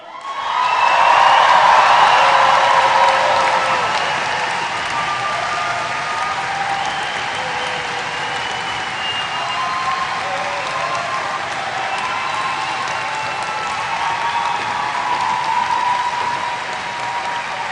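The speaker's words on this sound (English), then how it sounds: "Cheer again. Come on!" Graduation audience in a concert hall cheering and applauding, a loud roar of clapping with whoops and shouts that peaks early, then settles into sustained applause with scattered cheers throughout.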